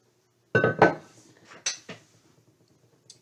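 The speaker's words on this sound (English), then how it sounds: "This is an Indiana glass candy dish. It's blue, a light blue, with the princess pattern." A light blue Indiana glass candy dish in the princess pattern being handled, giving a few close, sharp clinks and knocks in quick succession, then softer taps, with no talking.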